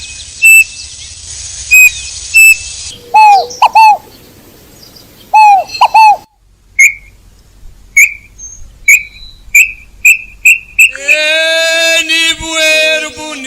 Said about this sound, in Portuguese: passarinho cantando assim no sertão